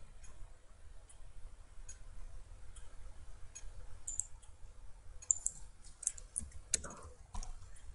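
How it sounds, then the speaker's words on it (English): Soft computer mouse clicks while editing a Joomla website, scattered single and double clicks, close and quiet over a low steady hum, with no talk. "Then I click on content again."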